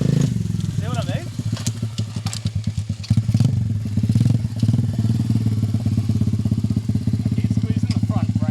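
A motorcycle engine runs steadily during a test ride, a close, loud rumbling idle with rapid pulsing firing and a few throttle blips, while people talk over it.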